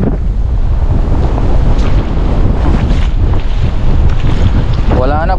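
Strong wind roars and buffets the microphone continuously, with water sloshing around a boat beneath the loud, steady rush.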